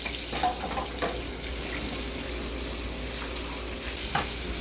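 Steak searing and browning in oil in a pan, a steady close sizzle and crackle with a few soft clatters and spatters on top, no talk.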